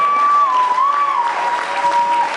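A church congregation applauding: dense clapping from a crowd throughout, with a sustained tone ringing over it, fairly loud and without speech.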